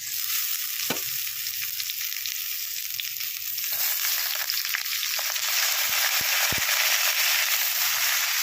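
Chalkumro greens go into a wok with fried potatoes and oil, giving a constant close sizzle with occasional clunks and scrapes of a spatula stirring them.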